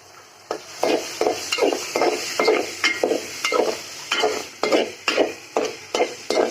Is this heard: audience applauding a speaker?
no